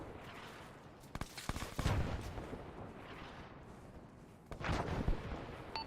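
Artillery fire in Arma 3 lands as a few distant booming blasts and rumbling impacts spaced across a few seconds, over a low battlefield background with no talk.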